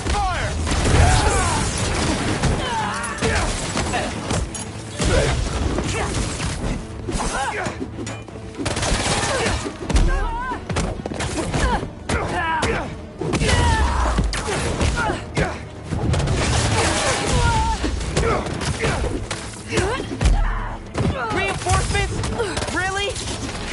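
Enemies open fire in Spider-Man 2, a dense, continuous barrage of gunshots, thuds and mechanical clatter lasting the whole stretch, with voices now and then among the shooting.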